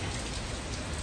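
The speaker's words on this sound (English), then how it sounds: "it's so rainy today" Steady, dense rain pours down at the Masjid Negara mosque in Kuala Lumpur, a close and continuous hiss of drops striking surfaces with no pauses.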